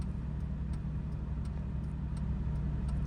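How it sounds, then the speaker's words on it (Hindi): A manual car creeps forward in first gear on half clutch, with a steady low engine hum close by and a faint, regular ticking of the right turn signal running under it. "चलो हाफ क्लच पे गाड़ी जाने दो"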